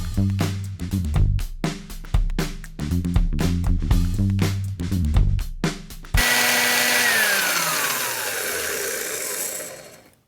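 A vintage 1940s Milwaukee S-114 quarter-inch Hole Shooter drill is pulsed in short bursts, its motor whine rising and falling, then held on in one steady loud run before spinning down at the end.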